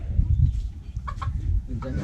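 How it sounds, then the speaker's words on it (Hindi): A rooster clucks in short bursts close by in a rural village setting, with low background rumble and some faint voices. "ये मुर्गा है ना?"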